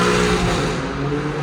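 A loud, throaty exhaust from a BMW G82 M4 burbles and crackles close by on downshifts, a rough, uneven engine roar with no voices.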